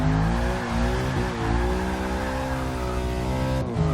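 A Lexus IS F track car races with its rear end sliding loose, a loud, close engine note wavering in pitch alongside tire noise, easing briefly before climbing again near the end.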